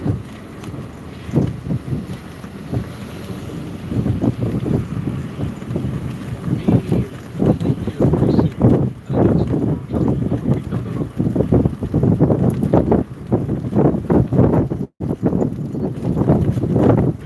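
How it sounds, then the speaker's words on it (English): Strong storm wind gusting at about 48 mph in Oklahoma roars and buffets the microphone in loud, repeated surges, with flapping flags nearby and no talking. "We got about 48 mile an hour gusts right here."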